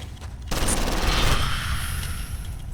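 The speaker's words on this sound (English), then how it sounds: "Oh, hang on, there's an SMG here." A submachine gun fires in the video game Condemned: a loud, dense burst of rapid shots begins abruptly and rattles on for about two seconds before tapering into a ringing tail.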